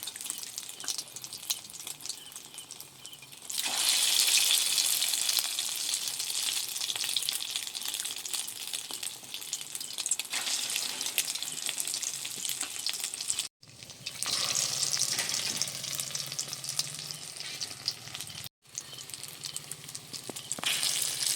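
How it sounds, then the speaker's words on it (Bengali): Flour and potato snacks fry in hot oil with a continuous bubbling sizzle that swells loudly as more pieces go in, briefly cutting out twice before the steady frying resumes. "আর বাদ বাকি যে কটা আছে এ কটা ভেজে নেবো"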